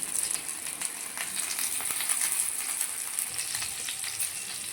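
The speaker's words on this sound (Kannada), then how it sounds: "ಇವಾಗ ಫಿಶನ್ನು ಹಾಕ್ಕೊತಿದ್ದೇವೆ ಕಾವಲಿಗೆ. ನೋಡಿ ಮದಿಮಲ್ ಮೀನು ಫ್ರೈ" Madimal fish frying on a tawa makes a bright, even crackling sizzle with rapid fine spitting, steady and close for a few seconds with no voices.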